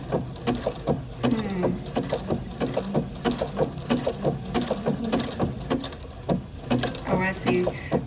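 A sewing machine runs a blanket stitch on a crazy quilt, its needle clicking in a fast, steady rhythm up close, with a voice speaking faintly at times.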